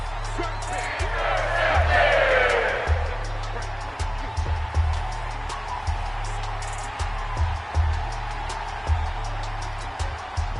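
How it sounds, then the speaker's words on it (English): A crowd cheers in an American football video game, swelling into a loud roar early on and then settling into a steady background din under a commentator's voice. "This crowd is ready for tug-of-war."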